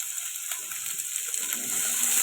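Potatoes, taro and yard-long beans tipped into a hot pan for a salted hilsa fish curry, giving a brief soft sizzle that swells toward the end.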